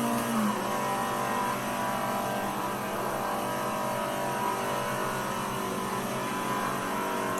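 Alfa Romeo 33 Stradale engine in the Assetto Corsa racing game, a loud, steady high-revving drone with one quick pitch drop near the start, then a sustained hum without speech.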